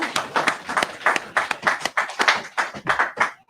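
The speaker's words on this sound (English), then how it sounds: "I clapped up for them." A pair of hands clapping about fifteen times in a quick, slightly uneven rhythm, each clap sharp and close, with no voices over them.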